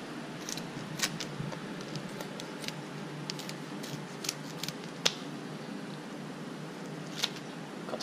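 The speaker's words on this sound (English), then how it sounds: "We're gonna cut all the fins, like I said, just get under there. Use these scissors." Scattered sharp snips of scissors cutting the fins off a fish in a kitchen, quiet and irregular, with a soft background hiss and no talking.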